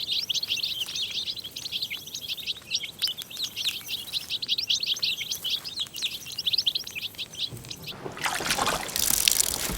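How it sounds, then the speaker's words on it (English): Young goldfinches in the Ausseerland valley give a dense run of high, rapid chirping calls, repeated steadily and fairly close, over a soft trickling water background, with a louder rushing burst near the end. "The young goldfinches are peckish."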